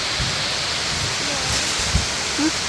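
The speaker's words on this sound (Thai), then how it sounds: "โอ้ฝนก็มากพอฝน" Heavy rain falls during mushroom foraging, a constant dense hiss filling the whole stretch, with soft low bumps and faint voices underneath.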